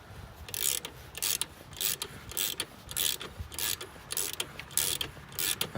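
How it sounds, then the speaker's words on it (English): Ratchet wrench tightening the alternator adjusting bolt on a Toyota Corolla ZRE152R, a steady series of close, crisp clicking bursts in regular rhythm with short pauses between. "you can tighten this bolt here, and it pulls the alternator towards the front of the vehicle to tighten the belt"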